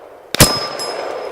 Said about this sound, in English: Let's try one of the little gongs.